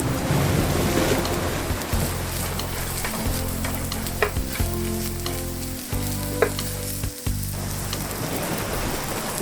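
Bacon bits frying with Brussels sprouts in a pan, a steady loud sizzle with bursts of stirring and scraping, close up and without talk.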